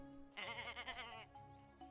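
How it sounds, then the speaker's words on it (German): Sheep bleating in the farming video game Summer in Mara: a single drawn-out, wavering bleat lasting about a second, heard clearly and alone, with a brief faint follow-up near the end. "Meinen Schafen geht es ganz gut. Wir haben erst 2 Schafe."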